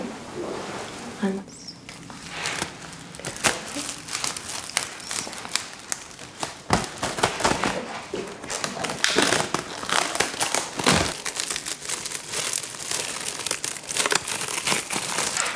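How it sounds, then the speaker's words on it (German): Plastic foil crinkles and rustles as it is stretched over a person's head to make a wig, the close irregular crackling mixed with handling noises while someone speaks German. "Ich spanne jetzt die Folie."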